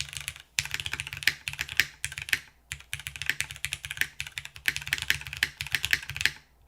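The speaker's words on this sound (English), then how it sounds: "Damn, I'm not used to typing on 65 grams." Close, crisp typing on a top-mount mechanical keyboard with 65-gram switches, delivered in quick bursts of clacky keystrokes with short pauses between them.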